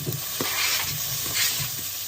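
Cauliflower rice dries out in a pot on the stove, giving a soft, steady sizzle with a few light stirring scrapes, close by and quiet, with no talk.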